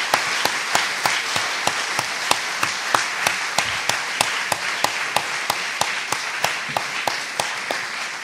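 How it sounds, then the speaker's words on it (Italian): An audience in a hall applauds after an evening talk during a Bible week. Sharp claps land in a steady, regular rhythm, about three per second, over a dense bed of clapping that stays even and loud throughout. "facciamo un bel applauso a Don Luca."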